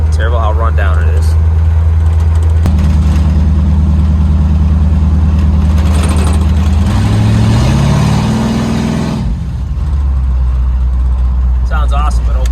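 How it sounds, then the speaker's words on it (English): A 1951 Chevy rat rod running open exhaust tubes idles with a deep, loud rumble, then swells into a rising rev before settling back to a steady low drone, close and continuous. "Sounds awesome with open tubes."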